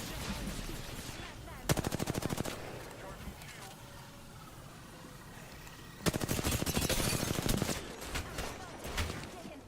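Two loud bursts of rapid automatic gunfire in a video game, with a quieter stretch of game noise between them and voices talking in the background.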